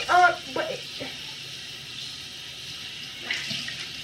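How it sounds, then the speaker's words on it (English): A wet towel is wrung out over a sink, with a short burst of splashing water at the start, then a quieter trickle and dripping, and another small splash near the end. "just cleaning, wringing out my towel"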